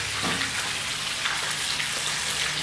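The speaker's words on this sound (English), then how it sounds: "we got some fish frying." Constant dense sizzling and crackling of fish frying in hot oil in a pan, close and steady throughout, with no voices.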